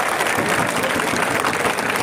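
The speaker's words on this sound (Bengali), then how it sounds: "তাদের জন্য আমরা জোরদার করতালি জানাই" Applause for female students at a protest gathering: a dense, steady burst of clapping from a large crowd, loud and close, continuing throughout with no speech.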